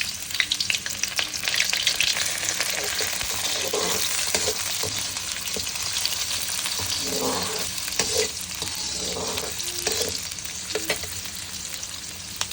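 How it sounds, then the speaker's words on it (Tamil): Small onions fry in hot oil for a fenugreek curry, a steady close sizzle with bursts of crackle and stirring scrapes running throughout, no talking. "பொரியிற மாதிரி வந்தோடனே நம்ம சின்ன வெங்காயம் போட்டுக்கலாம்."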